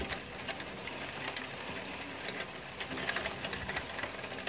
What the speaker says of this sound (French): Là, il pleut beaucoup.